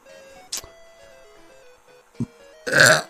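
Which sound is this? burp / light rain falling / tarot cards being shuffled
burp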